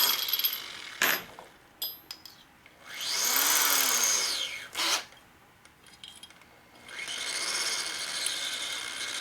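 A power drill running on a Harley shovelhead engine case held in a drill fixture, in several bursts: short spin-ups and two longer steady whines with rising and falling pitch, fairly close with a faint background hum.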